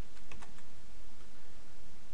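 Keystrokes on a computer keyboard as an Oracle database SQL query is typed: a few quick clicks early on, then sparse faint taps over a steady background hiss, with no talking.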